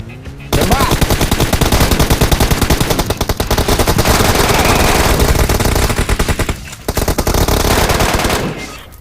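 Dense automatic gunfire from a video game, loud and sustained in rapid bursts for most of the stretch, with a couple of brief pauses.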